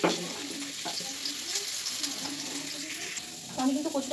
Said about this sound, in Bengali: আমি কিন্তু কচুটা ভেজে উঠিয়ে নিলাম